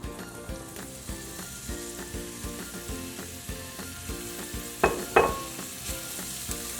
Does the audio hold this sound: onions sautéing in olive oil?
yes